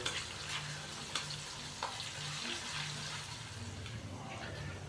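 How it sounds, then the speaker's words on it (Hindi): Ginger and garlic paste frying in a pan for a spicy lobia beans and keema dish, a steady close hiss and sizzle with faint watery crackle running continuously, no voices. "हल्का सा इसको फ्राई करेंगे अदरक और लहसुन के पेस्ट को, ताकि इसका कच्चापन ख़त्म हो जाए।"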